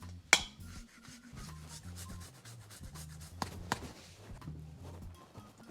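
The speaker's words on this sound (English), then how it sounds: "fresh ginger as well. Just gonna take that and just grate that on the top." Fresh ginger is grated by hand over a bowl of chicken, a series of close, soft rasping strokes with a sharp knock near the start and a few light clicks later.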